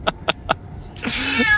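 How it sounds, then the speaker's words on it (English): A cat gives three short, sharp bursts, then a long, drawn-out, complaining meow, close and fairly loud, with no talking. "Max, stop hissing at Percy"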